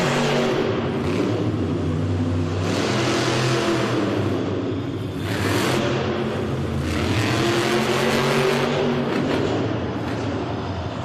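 El Toro Loco monster truck tears through a timed run in an arena, its engine roaring loud and continuous with repeated revving surges and a deep rumble, no voices over it.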